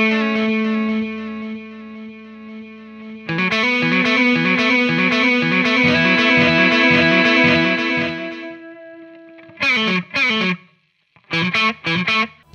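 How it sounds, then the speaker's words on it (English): Sustained electric guitar chords through a reverb pedal set to a long decay, a wash of ringing harmonics that swells and lingers, then brief staccato chords whose tails cut off quickly near the end, with no voices. "Decay controls the length of the reverb tail from very short to endless, and for delays, it sets the number of repeats."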